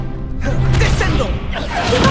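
Descendo slam spell in Hogwarts Legacy combat, a whooshing sweep followed by heavy thuds and crashes, loud and close, with a second swell toward the end.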